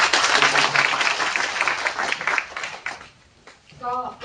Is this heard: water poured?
no